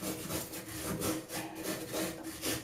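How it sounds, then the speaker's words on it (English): A brass wire brush scrubs back and forth on an old toilet float valve, making a close, gritty, rhythmic scraping in quick repeated strokes. "It's a wire brush, brass."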